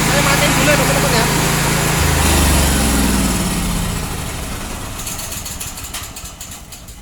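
Gasoline generator running, a steady low engine chug that changes pitch after a couple of seconds and then slowly fades, with someone talking over it.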